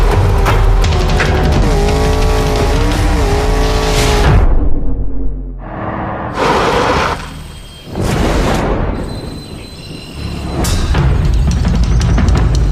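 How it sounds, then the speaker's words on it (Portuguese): 2025 Jeep Compass with a 272-horsepower turbo engine, heard as loud engine revving and acceleration with passing whooshes, tire noise and rising pitch sweeps, broken by brief dips. "Chegou o Jeep Compass com novo motor turbo de"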